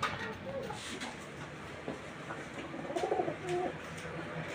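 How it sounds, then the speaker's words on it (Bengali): Pigeons coo softly in short, repeated throaty phrases at a farm with goats, heard at moderate distance amid faint background noise. "আমাদের কবুতর আছে আপনারা অবশ্যই দেখবেন"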